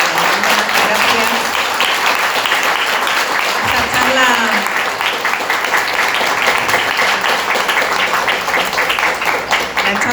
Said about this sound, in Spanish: les damos un fuerte aplauso a cada una